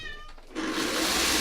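A pet cat gives a short meowing cry near the start, then a broad, steady noise swells and takes over, loud and close, with no talk.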